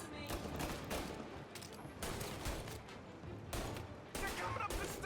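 Gunfire in Mafia Definitive Edition: repeated close bursts of shots arriving in clusters, each a few tenths of a second long, with voices yelling between volleys.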